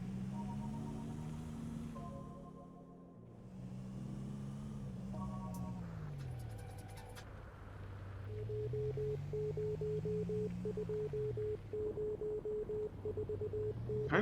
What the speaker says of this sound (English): Anyone speak Morse code? Does anyone know what it's saying?